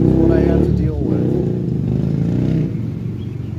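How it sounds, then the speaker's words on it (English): Loud, close street traffic with cars passing and motorbikes revving, a continuous engine roar that swells and fades across the whole stretch. "Nothing but cars, nothing but noise. It's like people revving up bikes all the time."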